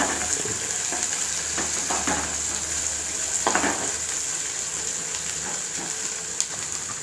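Onions and tomato juice sauté for Chettinad white paniyaram, giving a constant close sizzle and hiss. Intermittent stirring scrapes run through it and no one speaks.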